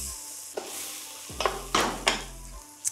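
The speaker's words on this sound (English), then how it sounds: "Just want to cook these down so they're translucent, so about a minute. And keep stirring," Vegetables cook down in a pan over high heat, with several close scraping stirs over a quiet sizzle.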